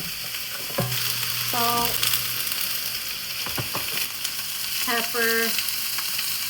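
Onion and zucchini hiss as they sauté in olive oil in a skillet, a steady sizzle with a few scraping stirs, while someone speaks briefly over it.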